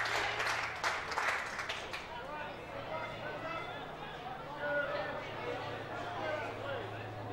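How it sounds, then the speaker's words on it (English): Crowd noise at a 2017 Sydney women's AFL grand final, Division 1: a brief burst of claps and cheers fading into steady murmuring chatter and distant calls from spectators, with a low constant hum underneath. "Really good crowd in attendance, making lots of noise for her friends and family out there on the field."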